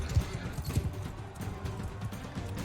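Horse hooves from the video game Mount & Blade 2: Bannerlord, a soft, rapid clip-clop of a galloping mount heard quietly under a steady rumble of game ambience.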